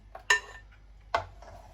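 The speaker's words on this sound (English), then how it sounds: "The mixture is transferred to a saucepan" Two distinct metallic clinks of a saucepan and utensil ring out as a tart filling mixture is transferred into the pan, in a quiet kitchen.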